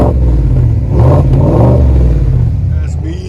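A 2020 GMC Sierra AT4 with a 6.2L V8 and aftermarket Magnaflow or Flowmaster 40 Series exhaust revs up close: a loud, deep engine roar swelling and easing over a few seconds.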